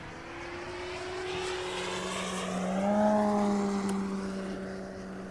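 Electric Hangar 9 Ki-43 Oscar RC plane flying aerobatics overhead, a steady whining motor and propeller drone that shifts pitch and swells louder as it passes closer, then eases away, with no voices.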